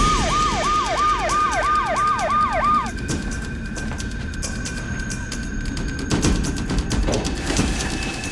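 A loud, close ambulance siren wails in fast repeated cycles for about three seconds, then cuts off, leaving passing road traffic and engine rumble in a city street scene.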